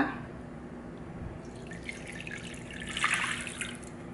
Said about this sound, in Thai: The first thing I'm gonna add the chicken broth.